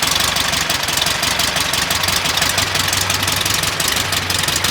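A 1940 Ford Tudor Sedan Deluxe engine runs at a steady idle close by, a continuous, loud, even rumble with a low throb underneath.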